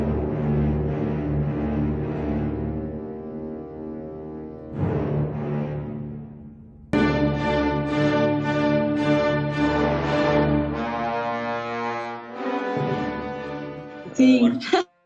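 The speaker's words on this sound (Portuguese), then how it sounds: "parece uma buzina de navio" Deep, heavy bass tones like a ship's horn fill the soundtrack, long sustained blasts with rich harmonics that change in pitch partway through, loud and continuous with a short burst near the end.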